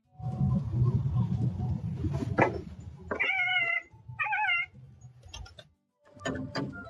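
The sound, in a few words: cat meowing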